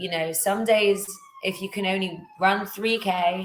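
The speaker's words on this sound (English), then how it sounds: "sorry for the siren." An emergency vehicle siren passes outside during an indoor conversation, its faint rising and falling wail running under a woman's continuous speech.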